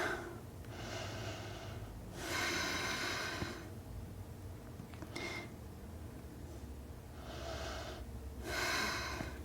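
Deep breathing during a yoga twisting flow: slow, audible inhales and exhales in a long rhythm, several distinct breath cycles close to the microphone, with quiet gaps between them and no speech.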